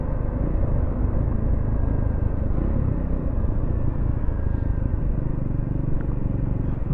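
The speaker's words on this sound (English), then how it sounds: "The exhaust note is well, you know, poppy single." A Triumph Scrambler motorcycle with a single-cylinder engine is being ridden, and its exhaust gives a steady, close, rumbling drone. The sound is continuous and even, with no talk over it.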